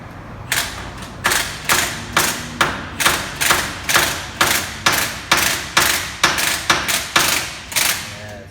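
Steady metal hammer blows drive a king pin into a steering knuckle, about fifteen sharp ringing strikes at an even pace, close and loud, with no talking.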